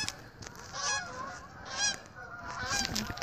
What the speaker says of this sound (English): Look at all those noisy geese flying around.